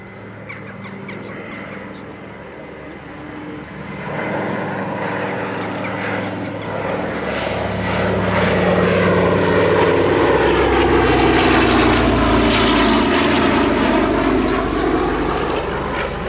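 Douglas R4D-6S propeller transport, the Navy version of the C-47/DC-3, operated by the Commemorative Air Force, with piston engines droning loudly and steadily. The roar swells in stages into a sustained heavy rumble, and faint bird calls are heard early on.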